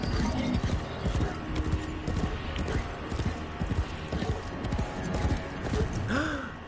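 Hooves clip-clop steadily beneath a continuous game soundscape as a horse moves along, with a short neigh near the end; a voice murmurs faintly at times.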